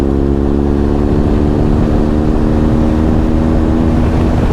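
A steady, loud engine drone with constant low harmonics runs throughout, like a motorcycle cruising at even speed up close on a countryside road in Dumfries and Galloway.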